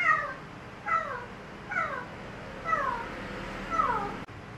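Several house cats fighting meow in a tense exchange, five separate drawn-out, falling yowls spaced about a second apart, fairly close, with no talking over them.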